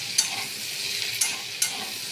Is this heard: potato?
yes